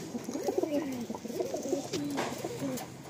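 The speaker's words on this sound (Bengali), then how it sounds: "তো এই চারটে পায়রা দুজোড়া পায়রা ফার্স্ট সেলে রাখছি" Madrasi pigeons in Garia, Kolkata, coo repeatedly in low, throaty rolling phrases close by, a steady series of calls with little else around.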